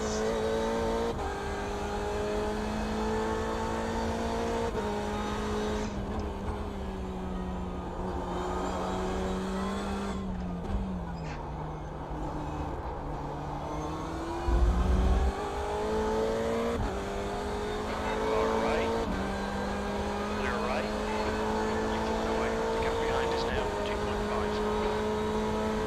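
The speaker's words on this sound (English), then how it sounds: "Here come the LMP2 cars" LMP2 race cars in a sim racing game at Road Atlanta, their engine notes climbing and dipping as they pass through the circuit, with a steady near roar and a commentator talking over it.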